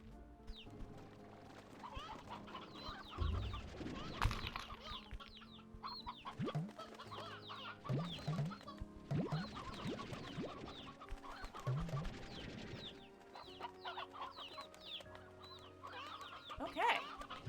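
Chickens cluck in Slime Rancher 2, a busy run of irregular clucks and squawks from several birds that lasts throughout, close and moderately loud, with a game soundtrack faintly underneath.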